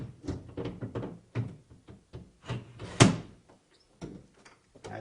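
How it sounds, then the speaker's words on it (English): A walk-in bathtub door is taken off and fitted back in place, making a close series of light clunks and thumps with one sharper knock midway and short pauses between the handling sounds. "And to be able to remove this door and put it back this easily"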